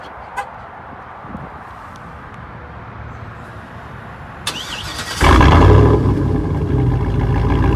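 A lifted 2008 Chevrolet Silverado 1500 LTZ 4x4 engine cranks to life by remote start after several seconds of quiet. It settles into a loud, deep, steady rumble close by, with no one talking.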